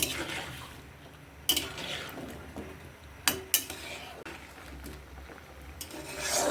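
Pumpkin pieces drop into a pot of boiling water for an oil-free vegetable curry: a steady bubbling hiss broken by a few sharp clatters and splashes, close and moderately loud.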